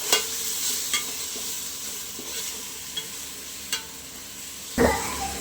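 Ginger, garlic, chilli and onion paste fries and sizzles with browned onions for mutton biryani, a steady close sizzle broken by occasional scrapes of a stirring spoon and a louder clatter near the end.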